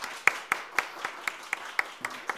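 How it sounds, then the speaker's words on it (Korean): Steady rhythmic clapping in unison, about four claps per second, moderately loud, like a church congregation clapping along together at a morning service. "한번 응원의 박수 한번 부탁드리겠습니다"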